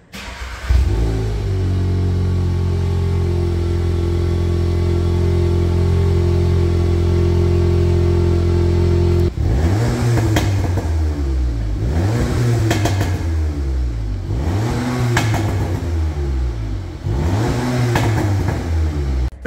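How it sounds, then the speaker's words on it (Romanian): A 2.0-litre petrol, 300 hp, four-wheel-drive VW Golf 7 idles loudly at first, then its exhaust is revved hard four or five times, each rev rising sharply and falling back between bursts. "haideți să vedeți cum se aude și evacuarea"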